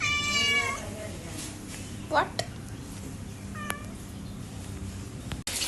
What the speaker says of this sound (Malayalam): നമ്മളെ വീട്ടിലെ പൂച്ചയാണ് കേട്ടോ